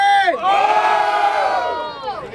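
A rap battle audience in Barueri, SP shouts out its vote for a rapper, a loud, sustained roar of many voices that swells, holds and then tails off with some scattered yells.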